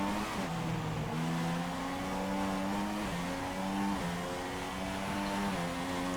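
Race cars accelerate hard after a green-flag restart, a dense, loud engine roar with repeated rising pitch sweeps as gears shift, several cars blending together close by, with no voices.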